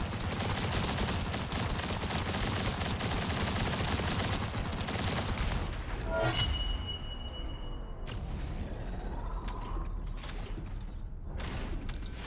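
Dense, rapid gunfire from a sci-fi shooter, The First Descendant, hammers continuously and loudly for several seconds, then breaks into scattered mechanical clanks and isolated shots with quieter gaps.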